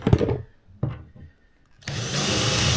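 A few knocks and handling thumps, then a power drill whirs loudly and steadily as it bores into 18 mm chipboard while assembling a cabinet base, running continuously to the end.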